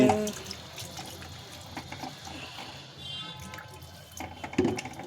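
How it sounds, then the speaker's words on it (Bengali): Water is poured into a pan of fish curry cooking on the stove, splashing and trickling in short bursts with small clinks of utensils in between. "এইবার জল দেবো অল্প জল"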